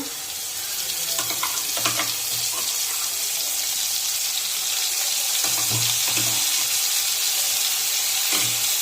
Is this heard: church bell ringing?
no